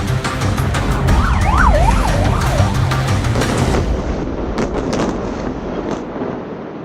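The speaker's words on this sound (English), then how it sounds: "The sirens have gone off." Air raid sirens wail loudly during a rocket barrage in Israel, rising and falling in a steady cycle over heavy rumbling background noise, then fading toward the end amid a few sharp thuds.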